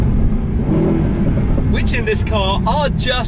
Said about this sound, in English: the beauty of a couple of downshifts